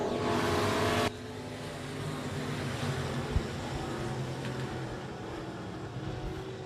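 Race cars run laps at Rocket Raceway Park, their engines droning and roaring at a distance in an outdoor, moderately loud wash after a brief louder burst at the start.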